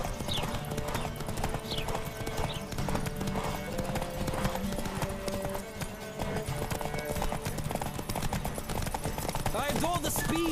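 Horse hooves pound in a fast, steady clip-clop gallop through the Witcher 3 game world, loud and close, with an occasional neigh and a rider's shouts over the running rhythm.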